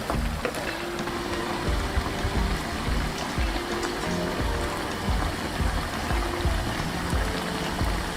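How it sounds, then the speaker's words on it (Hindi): Chicken pieces for Peshawari chicken karahi fry in hot oil while being stirred, giving a dense, steady sizzle that runs without a break throughout. "साथ साथ आपने इसको हिलाते भी जाना है ताकि ये दोनों साइडों से हर तरफ से अच्छी तरह से फ्राई हो ले।"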